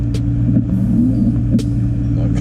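A Mercedes-AMG E63 S idles in race mode with a deep, steady rumble, close and continuous, with a few faint clicks over the top.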